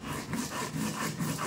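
Poppy seeds and mustard seeds ground into a fine paste by hand on a grinding stone, giving a steady close rasping rub in a continuous back-and-forth rhythm.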